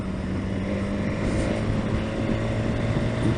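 A 2018 BMW S 1000 XR motorcycle engine drones steadily while shifting gears without the clutch, heard up close with heavy wind buffeting over the steady hum and no speech.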